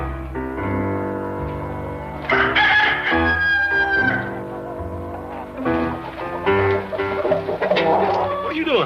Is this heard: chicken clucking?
yes